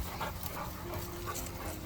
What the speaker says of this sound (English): And then we've got Kyla, the 5-month-old German Shepherd